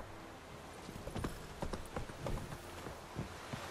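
Hooves of the horse Roach clip-clop in a quick galloping rhythm in the video game The Witcher 3, a steady run of near, fairly loud hoofbeats with no talking.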